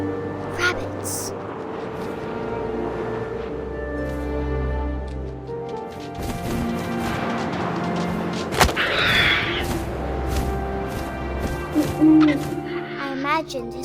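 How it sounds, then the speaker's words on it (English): An owl hoots in the video game What Remains of Edith Finch, with wind and layered ambient game sounds, thumps and tonal music underneath; spoken narration runs alongside. "And suddenly, I was an owl."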